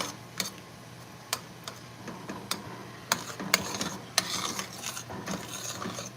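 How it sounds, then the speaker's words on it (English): Spoon stirring a sauce of chopped and diced canned tomatoes in a home kitchen, heard as soft, irregular ticks and scrapes spread across the clip, fairly quiet and close. "Stir that up a little bit."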